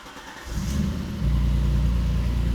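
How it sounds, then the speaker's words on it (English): An Alfa Romeo 155 V6 with an aftermarket exhaust fires up, a brief crank followed by a deep, steady idle that settles in close and loud. "The exhaust is aftermarket, you can hear it. The sound is awesome"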